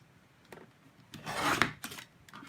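A paper trimmer blade slides across excess cardstock in one short rasping cut, close and fairly quiet, with a few faint rubs before and after.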